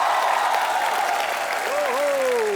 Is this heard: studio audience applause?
yes